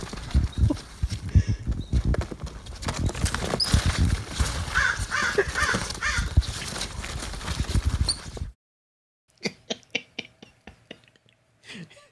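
Birds call outdoors in short scattered bursts over a murmur of voices and background noise, then ring out more clearly as sharp, separate chirps once the noise drops away.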